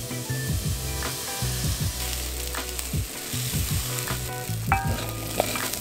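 Onions with cardamom, cinnamon, turmeric and ground cloves sizzle and fry steadily in a pan, with repeated scraping stir strokes and occasional utensil clinks close by.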